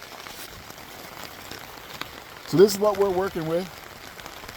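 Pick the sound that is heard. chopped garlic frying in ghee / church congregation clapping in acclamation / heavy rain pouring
heavy rain pouring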